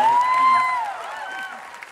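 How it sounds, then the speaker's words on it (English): Audience applause after a dance performance during an interview, a steady wash of clapping that fades gradually, with a sustained musical tone at the start. "That deserves a bigger round of applause."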